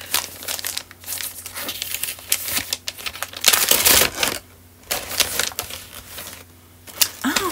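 A crinkly plastic package is being struggled open, close-up bursts of crumpling and tearing in uneven clusters with short pauses between, loud and sharp, no voice over it.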